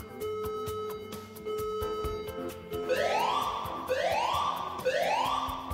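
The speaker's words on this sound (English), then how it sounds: "Likewise, an audible warning system is often used." An emergency evacuation alarm siren sounds during an evacuation exercise, first as a steady buzzing tone, then as repeated rising wails, loud and continuous with no talk.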